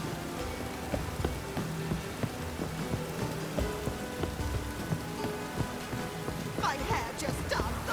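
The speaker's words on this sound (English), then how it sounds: "The rain will cleanse the city streets of filth." Steady rain falls in a city in The Witcher 3: Wild Hunt, a constant patter of drops on streets and surfaces that runs throughout at moderate level, with a few sharper splashes near the end.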